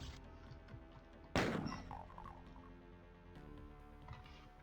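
A single loud gunshot from the DOOM game fires with a sharp attack and a long decaying tail, set against a steady in-game ambient hum and music, with no talking.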